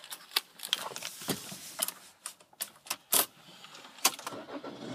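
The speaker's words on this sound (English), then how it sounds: "So you've got two keys and two fobs." Keys and fobs for a Land Rover Freelander Freestyle jangle and clink in a series of sharp, irregular metallic rattles and taps, close by with no talking.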